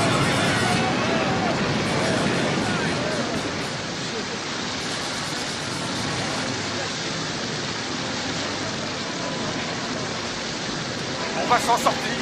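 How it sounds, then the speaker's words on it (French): Strong sea waves crash during a storm in a film scene, a continuous loud roar of surf and rushing water with crowd voices mixed in and a few sharp knocks near the end. "Les vagues sont trop fortes!"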